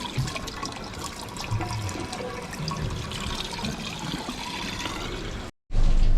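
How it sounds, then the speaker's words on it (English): Rainwater pours off a roof into collection in a steady rushing stream, briefly cutting out near the end before returning louder. "to show you what we do in the rain is we pull water straight off the roof"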